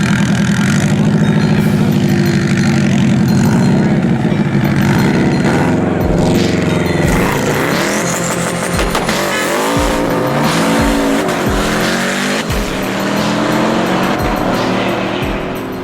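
Street race between a stock-block EJ20 Subaru wagon and a nitrous-fed BMW X5M: loud, continuous engine roar with rising revs, gear changes and tire squeal, cars passing close, no talk.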